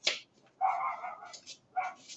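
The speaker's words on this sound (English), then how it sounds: "the freaking dogs" Dogs at home give a few short, sharp barks in separated bursts, close by and moderately loud, with brief pauses between.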